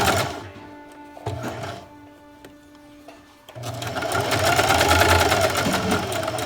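Sewing machine running a zigzag stitch on stretch knit fabric, stopping and starting in short bursts before a longer, steady whirring run with rhythmic needle clatter, close and clear without talk.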